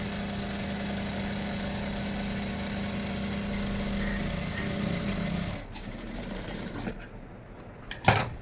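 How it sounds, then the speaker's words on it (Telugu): A sewing machine runs steadily as it stitches a quarter-inch seam in fabric, a continuous close whirring hum that stops near the end, leaving a few small clicks and handling noises. "పెట్టుకొని జస్ట్ ఒక కుట్టు అనేది వేసుకుంటున్నాను"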